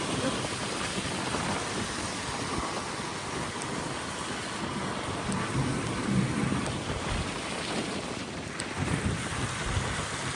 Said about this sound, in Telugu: వర్షం పడుతూనే ఉంది